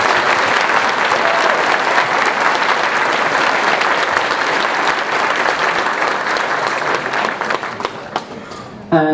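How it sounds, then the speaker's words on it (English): Convention opening-ceremony crowd at ConFuzzled 2013 applauding Gav, a loud, dense and sustained roar of clapping from a large audience that holds steady for several seconds before tapering and breaking off abruptly. "A round of applause for Gav,"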